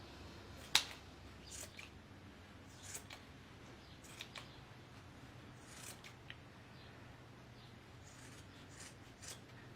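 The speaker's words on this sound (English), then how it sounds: "Now holding it by those pieces, you're going to take and cut the outer edges" Scissors trim the outer edges of yarn loops for a bunny craft: one crisp snip near the start, then several faint, scattered clicks in a quiet room.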